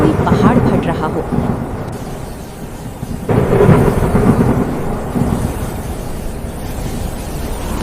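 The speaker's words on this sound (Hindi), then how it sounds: "दूर जंगल से ऐसी गरज सुनाई दी जैसे कोई पहाड़ फट रहा हो" A deep, rumbling thunder-like roar echoes from a jungle in a cartoon story, loud and rolling, swelling and fading in waves.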